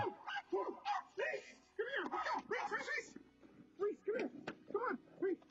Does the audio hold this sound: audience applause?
no